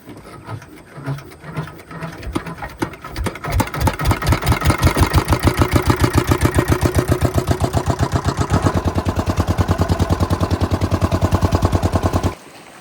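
A fishing boat's engine on a Sundarbans creek sputters through a few uneven turns, then catches and settles into a loud, fast, steady thumping beat that runs until it cuts off abruptly at the end.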